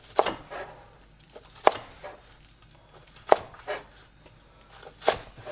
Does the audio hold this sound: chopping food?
yes